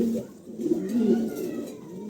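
A pair of molting pigeons at a breeding farm coo softly and close by in a short, rolling run of low calls, with no talking.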